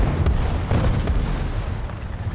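A single loud, booming tank cannon shot from a video game, with heavy low rumble that continues through the clip amid ongoing battle noise.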